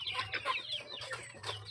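Native chickens cluck in a steady, overlapping chorus around scattered feed on a Philippine farm, close and busy throughout with no talk.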